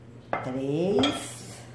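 A spoon scrapes against a bowl while stirring cornmeal dough, one short metallic ringing clink followed by a smeared scraping stroke, close and clear with no talk.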